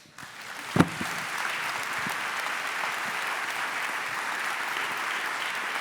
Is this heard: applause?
yes